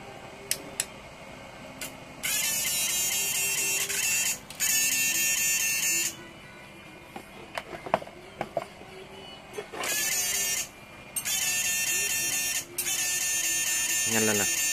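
A high-power 82 fishing-boat machine switched to sound mode gives off loud bursts of harsh electronic buzzing that start and stop repeatedly, with clicks and handling noise between them and someone talking in the gaps.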